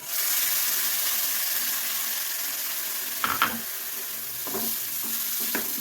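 Steady sizzling of roasted coconut masala paste with curry leaves frying in a hot pan, with a few scraping stirs of a spoon partway through; no voices.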